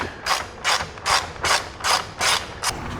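A ratchet working loose 10mm bolts on the grille of a Ford F150 Tremor, seven loud, close bursts of rapid clicking in an even rhythm, no talking.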